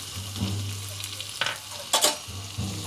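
Chopped onions sizzle in hot oil seasoned with curry leaves and asafoetida for green fenugreek kadhi, a steady near frying hiss with a low hum and a couple of brief stirring scrapes and spatters.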